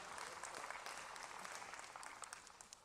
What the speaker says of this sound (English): Let's put our hands together and give everyone a round of applause that's out here in our final drive.